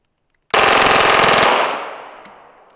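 A Kriss Vector 9mm fires one sustained full-auto burst from a partly loaded magazine, a loud, rapid stream of shots lasting about a second before a long echoing decay.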